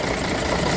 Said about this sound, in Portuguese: Scania 110, ano 69, motor turbinado, kit da 112.